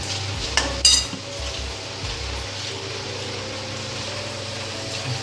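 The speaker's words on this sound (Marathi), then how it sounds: "थोडं मिक्स करून भाजून घेऊया जरा व्यवस्थित" Spices with salt and turmeric being stirred and roasted in a pan for a curd vegetable dish: a spoon scrapes and clinks against the pan at the start, then a steady soft sizzle of frying continues alone.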